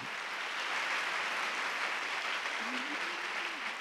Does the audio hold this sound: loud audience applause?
yes